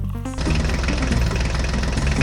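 A mini tractor's engine starts up and pulls away, shifting from a brief humming note into a steady, loud, rattling drone that carries on alone.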